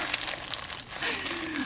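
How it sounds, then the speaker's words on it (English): A paper envelope is torn open and its contents pulled out, with steady crinkling and rustling of paper running throughout, close and moderately loud, with no spoken words. "let's see what Megan sent for the challenge items inside of this envelope"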